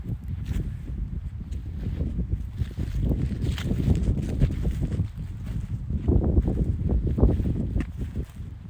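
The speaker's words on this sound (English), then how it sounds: "Wind is cold tonight." Cold night wind blows through a cemetery, a continuous low rushing and buffeting against the microphone with no one talking.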